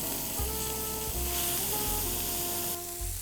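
Steak frying in a hot pan, steady loud sizzle broken by several bursts as the meat is pressed down against the surface.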